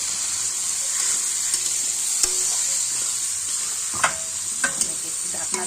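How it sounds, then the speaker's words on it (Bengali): Sun-dried lentil vadi frying in oil with turmeric in a pan, a continuous bright sizzle with occasional scraping clicks and knocks of a spatula stirring, loud and close, with no voices. "একটু ভাজা ভাজা করে নিই।"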